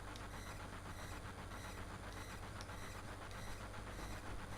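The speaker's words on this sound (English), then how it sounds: "Just jump off a ridiculously fast moving train." A fast-moving train in Final Fantasy VII gives a dense, steady rushing roar with faint rhythmic clatter, unbroken and loud throughout.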